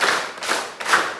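Three quick claps from an audience clapping in unison, evenly spaced and fairly close, with no talking.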